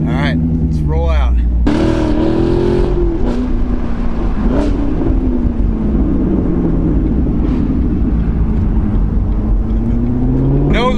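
A C7 Corvette Grand Sport rolls out at a charity car rally, its engine loud and close, revving and pulling through gear changes with rising and falling drone and occasional voices.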